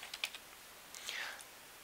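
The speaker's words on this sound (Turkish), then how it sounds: "İki çift tırnağın arasına merhaba dünya yazıyorum." Java code being typed on a computer keyboard, a few quick close key clicks followed by a short run of soft tapping, with no talking.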